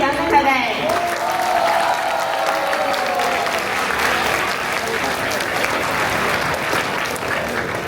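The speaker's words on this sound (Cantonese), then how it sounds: "俾啲掌聲佢哋" Applause from a school audience greeting a student band at a Christmas party singing contest, dense and sustained, with cheering voices mixed in as the clapping builds after a brief shout at the start.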